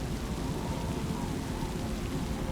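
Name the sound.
rain pouring on a tent shelter, with thunder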